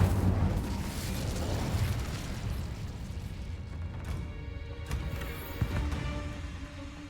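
An Incendio fire spell blasting in Hogwarts Legacy: a loud burst at the start that rolls off into a rumbling decay, followed by a few smaller pops and crackles.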